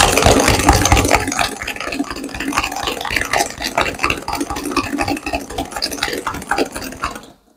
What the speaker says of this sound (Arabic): رح نخفقهم كتير منيح، طبعا بصير الخفق يدوي أو كهربائي ما بأثر.